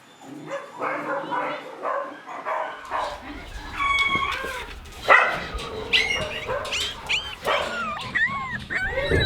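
Week-old puppies whimper and yip in thin, high, rising cries, several overlapping close by, with a person's voice and handling noise mixed in.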